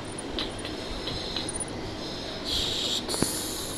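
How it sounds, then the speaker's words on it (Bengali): A passenger train rumbles steadily past a station platform, with faint metallic wheel squeals and a brief brighter screech near the end. "তখনই কেলটুদের কোচ এসে যায়।"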